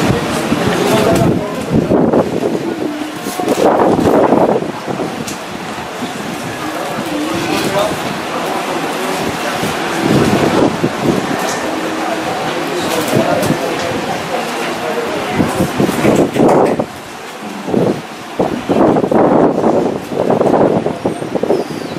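Gusty wind buffets the microphone at an outdoor Catholic mass for the feast of Nossa Senhora da Boa Viagem, swelling in loud rumbling bursts and easing between them, while voices carry on underneath.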